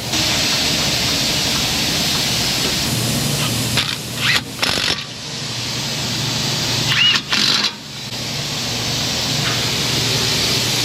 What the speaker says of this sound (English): I can't fault them for that noise because the vacuum bleeder system, you have to use shop air